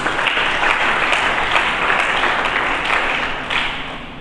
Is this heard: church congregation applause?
yes